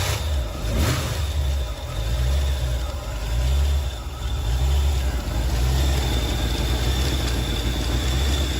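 A C4 Corvette V8 starts up and idles with a steady, loud low rumble, then revs in a few swells over several seconds, heard up close with no voices.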